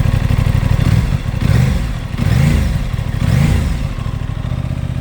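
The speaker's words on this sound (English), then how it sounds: "Give it a little cold start rev." A 2022 Aprilia Tuono 660 Factory motorcycle idles after a cold start, its engine blipped through several quick revs that rise and fall over a steady, loud, close burble.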